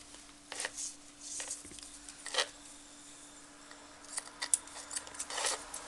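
Paper is cut with scissors in a few soft, separate snips spread across a quiet room with a faint steady hum, in the middle of making a Christmas angel lamp.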